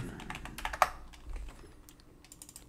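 A computer keyboard sits right in front of the microphone, with rapid close clicking of keystrokes in quick bursts that taper off into lighter, scattered taps.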